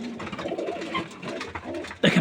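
Pigeons in a loft where eggs are hatching give repeated soft cooing throughout, near and moderately loud, with a sharper, louder burst of bird sound at the very end.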